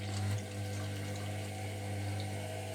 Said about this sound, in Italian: verso dell'acqua calda e lo mando giù.